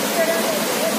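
A burst pipe of the Nippon hydropower project pours water across a road in a constant heavy rushing roar, with a faint voice barely audible beneath it.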